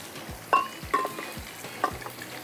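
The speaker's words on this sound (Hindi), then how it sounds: "कोफ्ते हमारे फ्राई हो रहे हैं" Kofte for makhni handi kofte frying in a pan: a low, steady sizzle broken by a few sharp clinks of stirring at irregular intervals, with no talking.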